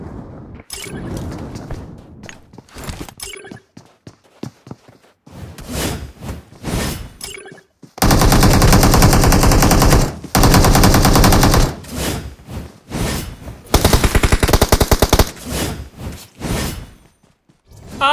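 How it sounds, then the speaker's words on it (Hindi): Bursts of rapid automatic gunfire from an enemy player in PUBG Mobile crackle loud and close in long sustained volleys, broken by shorter single shots and brief pauses, with no talk. "ये बंदा मुझ पर फायर करता है"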